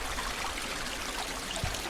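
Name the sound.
small waterfall on Tarryall Creek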